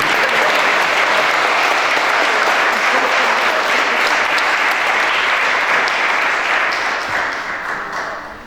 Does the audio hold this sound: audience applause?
yes